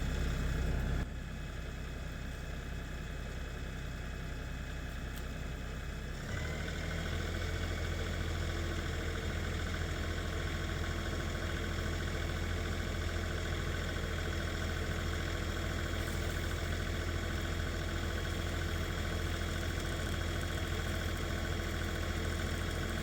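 Tractor engine running steadily outdoors while a homemade hydraulic skidding winch pulls a treetop, a constant low rumbling drone with a slight shift in tone after a few seconds, loud and unbroken with no talk.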